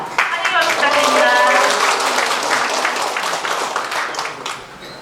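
Audience applause welcomes a city council member at a Yeongi-myeon citizens' dialogue event in Sejong. Dense clapping runs loud and steady for several seconds, then thins slightly toward the end, with crowd voices mixed in.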